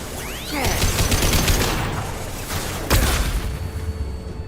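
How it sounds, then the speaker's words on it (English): Flashbangs and gunfire in the video game Mass Effect 2, a dense burst of shots with a sharp bang near the middle, over a continuous rumbling game mix. "Watch out, flashbangs."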